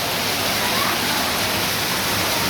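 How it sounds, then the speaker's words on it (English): Waterfall in the gorge at Watkins Glen, New York, a dense, loud, unbroken roar of falling water filling the whole moment with no voices. "Over here is one of the waterfalls"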